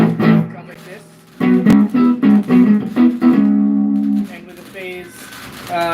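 An electric guitar played clean through pickup position 4 with the pickups in phase, a short run of plucked notes and chords ringing out close and fairly loud, with no talking over it.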